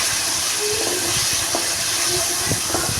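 Onion and ginger-garlic paste frying in oil in a wok give off a steady, close sizzling hiss, with faint crackles popping through it and no voices.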